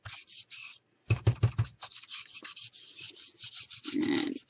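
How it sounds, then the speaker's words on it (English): Tea dye distress stain is rubbed over a kraft resist background, giving short dry scrubbing strokes in bursts, a quick run of rapid rubs, then a longer smoother rub close up. "give it a rub over the background"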